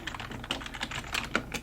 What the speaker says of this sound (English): we should probably type that in first